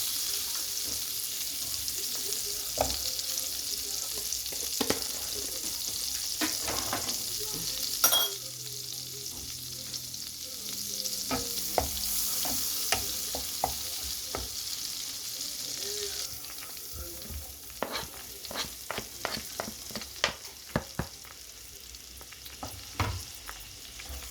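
Sea bream frying in butter in a pan, a continuous close sizzle broken by frequent spatula scrapes and clicks, busier toward the end, with no talk.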